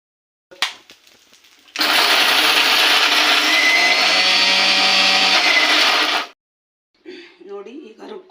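A kitchen mixer grinder whirs loudly for about four seconds, grinding roasted peanut chutney with garlic and salt, starting abruptly and cutting off cleanly, with someone speaking briefly before and after.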